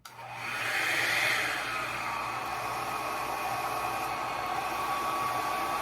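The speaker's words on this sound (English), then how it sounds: "It's a dryer. I'm going to turn it on, but it also spins." A spinning hair dryer switches on and settles into a loud, steady blowing roar that runs for several seconds without a break.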